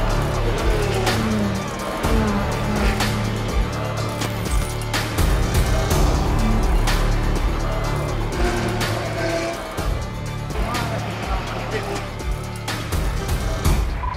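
A Porsche hybrid race car at the 6 Hours of Monza roars loudly and continuously from on board, engine note rising and falling through gear changes, with a brief tire squeal under faint radio talk.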